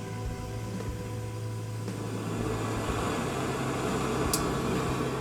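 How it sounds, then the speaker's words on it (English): A small penny stove burning on high heat outdoors, giving a steady, close, even roar that stays constant throughout with no talk. "We have our handy penny stove, and we just crank up the heat"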